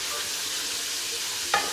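Whole spices sautéing in ghee in a pot for aloo gosht, a steady hissing sizzle throughout with a single scraping stir near the end, close and even.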